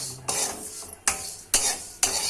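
Poha for kesari sizzling in ghee in a pan with repeated stirring scrapes, four bursts of loud hiss at regular intervals, close up with no voices.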